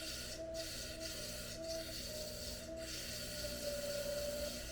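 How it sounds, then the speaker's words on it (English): An Artista Speedball rotary tool bogs down under about five pounds of pressure, giving a steady, close mechanical whir with a rasping, grinding edge and faint periodic dips in pitch as the load drags it. "Okay, so I can bog it down. That's what's probably about 5 pounds of pressure."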